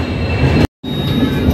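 Passenger train running near Madurai Junction, a close, loud steady rumble of wheels on rails, briefly cut by a split-second dropout midway.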